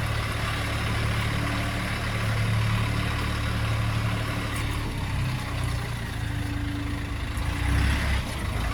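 A Dongfeng DF 244G2B tractor engine runs at a steady low rumble on a small test yard, continuous and close, with no voices.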